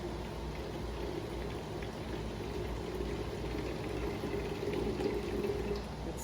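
Water pours steadily into a container, a continuous soft splashing gurgle that holds even and fairly faint throughout, with no talking.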